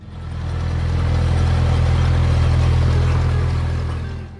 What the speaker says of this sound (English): When a 4020 starts, the sound is smooth and confident, a steady diesel rhythm